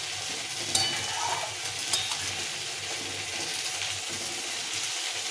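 Small fish, heads still on, cooking in a bubbling curry gravy for a fish jhal, a steady close sizzle with soft bubbling and a couple of faint clinks, no talking.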